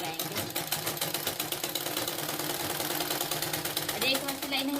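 A sewing machine stitches a blouse lining in a rapid, even run of mechanical clicks close by, with a brief slowdown near the end and a voice faintly under it.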